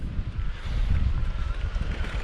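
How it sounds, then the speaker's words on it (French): Steady wind buffets the microphone with a low, gusting rumble at an exposed cromlech site in the Okabe and Iraty mountains, close and fairly loud, with no one talking. "Faut pas trop s'éterniser ici parce que c'est en plein vent."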